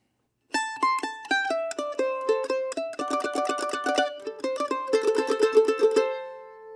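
Mandolin picks out the next phrase of a bluegrass tune, a run of quick single notes at an even pace, then a tremolo-picked held note that rings and fades, up close with no talking.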